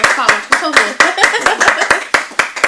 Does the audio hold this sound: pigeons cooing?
no